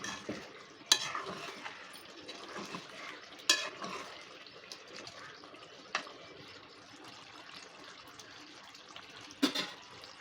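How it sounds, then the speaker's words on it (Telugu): Chicken and potato curry is stirred in a pot, giving faint wet scraping and a quiet simmer, with a few spaced spoon clinks against the metal. "ఒకసారి కలుపుకుందామండి"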